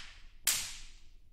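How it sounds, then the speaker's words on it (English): A single sharp slapstick crack from a sampled orchestral percussion library, loud and bright, followed by a reverberant tail that fades away. "We have some slap sticks."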